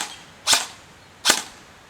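An airsoft gun shoots BBs fed from an old KWA magazine, two sharp, snappy pops about three quarters of a second apart, close and loud against a quiet background.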